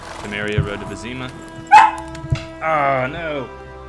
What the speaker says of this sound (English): Sorry for the barking, guys.